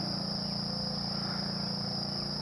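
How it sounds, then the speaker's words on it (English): A steady, dense drone of crickets fills the night air in Elizabethtown, Hardin County, Kentucky, continuous and even, with a low pulsing chorus of frogs underneath. "I just enjoy hearing them crickets and frogs."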